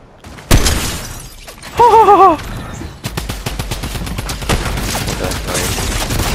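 Rapid bursts of drum gun fire in Fortnite, loud and close, with clattering shots and a shattering break mixed into busy game action.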